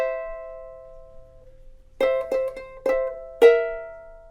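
Ukulele blues tablature phrase played further up the neck: a sustained ringing chord fades out, then a short run of four sharply plucked notes and strums follows, close and clear with no talking.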